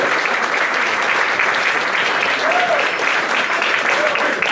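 Steady, full applause fills a church congregation, continuous and fairly loud from start to finish with no break.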